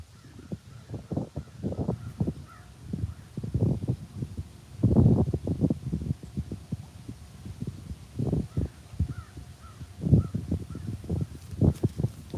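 A steady series of harsh crow caws, sometimes doubled, carries on for several seconds at moderate loudness, with some calls louder and closer than others, and no voices are heard.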